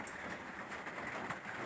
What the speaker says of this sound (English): I hope you'll excuse the noise of the rain on the roof.